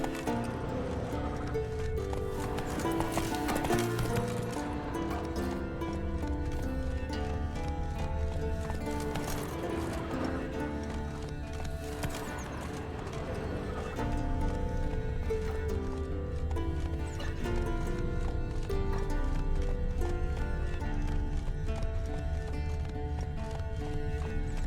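Roach, the horse in The Witcher 3, gallops with a steady, close drumming of hooves and an occasional whinny, all under continuous game music.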